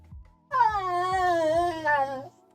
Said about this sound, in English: Oh, doggy, why you cry?